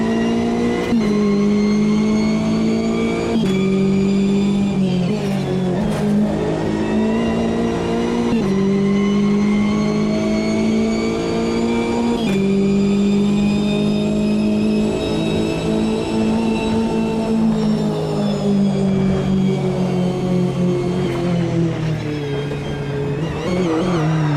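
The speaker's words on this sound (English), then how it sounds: "I try to lock up the wheels so you guys can see the smoke coming from the tires." Race car in the Assetto Corsa Competizione sim with wheels locking under braking, loud sustained engine drone with shifting harmonic pitch and repeated downshift blips throughout, no talk.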